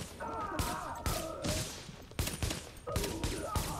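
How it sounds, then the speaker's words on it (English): Bursts of gunfire from an enemy firing wildly in The Division video game, several sharp volleys repeating irregularly across the moment, fairly loud, with faint background game ambience. "He's shooting randomly"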